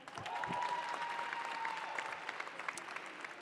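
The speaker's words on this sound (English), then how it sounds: "Let's give a round of applause to them." An audience at an awards night gives a steady round of applause, dense clapping from many hands at a moderate distance with a faint tone running under it.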